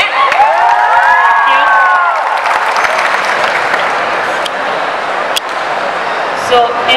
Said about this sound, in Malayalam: അതൊന്ന് നല്ലൊരു കൈയടി കൊടുത്തേ.